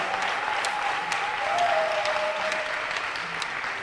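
A congregation in church breaks into sustained applause, a steady, moderately distant patter of many hands with a few sharper individual claps standing out, and a voice faintly heard under it.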